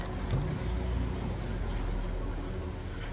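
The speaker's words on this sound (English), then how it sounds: "Disregard the parking lot traffic." Parking lot traffic near a garage where a Subaru EJ25 engine is being rebuilt, with a car passing close by and a steady road rumble underneath, fairly loud and continuous with no talking.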